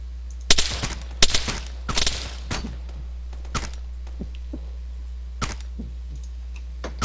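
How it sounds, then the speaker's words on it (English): Scattered rifle fire in ARMA 3 crackles at mid-distance, with a few quick clustered shots early on, then sparser single reports tapering off over a steady low hum. "Shots. Just saw muzzle flashes from over at the gas station."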